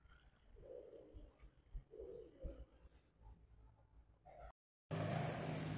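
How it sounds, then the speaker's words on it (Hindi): Three pigeons perched at a shrine roughly 250 years old give soft, faint coos in a few low bursts, followed by a sudden loud, rushing burst of noise. "गुटर गूं की आवाज़ें आ रही हैं यहाँ से, और 3 कबूर हैं यहाँ पर।"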